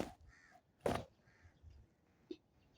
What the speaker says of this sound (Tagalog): Tatlong uwak na yun.